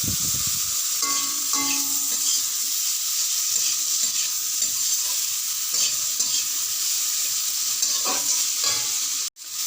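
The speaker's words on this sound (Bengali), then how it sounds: "নুন হলুদ দিয়ে আবার আলুটাকে ভালো করে নাড়তে হবে।" Potatoes fry in a pan with salt and turmeric while a utensil stirs them, giving a steady close sizzle with scraping strokes throughout, no voices.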